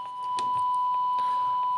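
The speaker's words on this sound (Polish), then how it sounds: "do kiedy będziemy słyszeć sygnał 1 kHz" A steady 1 kHz test tone from a TinySA Ultra signal generator, received on an FM device during a sensitivity check, holds unbroken at moderate level with faint background hiss and soft clicks.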